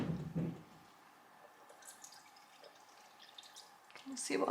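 Liquid is poured and drips briefly while goat milk Monterey Jack cheese is made in a home kitchen. The soft splashes come at the start and end, with a voice talking over them and quiet in between.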